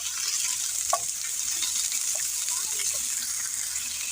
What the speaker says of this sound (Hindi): इन्हें एक साथ ही फ्राई कर लेंगे क्योंकि इनका किसी का भी कलर नहीं निकलता। और फ्लेम हम फुल भी रखेंगे।